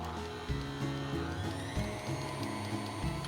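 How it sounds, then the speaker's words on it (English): An electric stand mixer whirs steadily while combining grain-free cinnamon roll dough made with palm shortening, its motor hum wavering slightly as the beater turns, close and continuous with no talk. "we'll turn our mixer back on and get this all combined"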